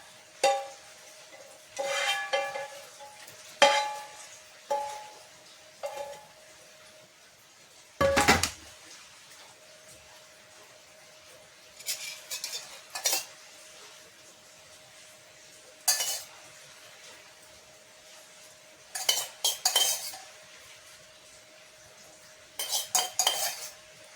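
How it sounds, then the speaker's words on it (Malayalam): Ghee and fried onions go into a pan and get stirred, with repeated metal spoon scrapes and clinks against the cookware in short bursts, a faint steady sizzle underneath and one heavier knock midway. "ബാക്കിയുള്ള നമ്മുടെ സവാള ഫ്രൈ ചെയ്തും കൂടിയൊക്കെ ഇട്ട് കൊടുക്കാം."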